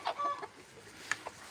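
A farm hen clucks and squawks in short, close bursts as she is carried out of a barn, with soft handling noise between calls.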